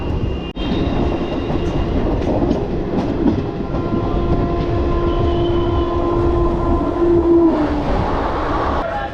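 The 12312 Kalka-Howrah Netaji Express rumbles steadily through Firozabad railway station at close range, with continuous rolling wheel noise, metallic clatter and a sustained tonal hum.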